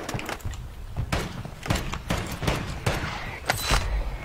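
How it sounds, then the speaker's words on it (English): Gunfire in a multiplayer shooter video game rings out as a series of sharp shots at irregular intervals, moderately loud and fairly close, with some faint chatter in the background. "Who's shooting where?"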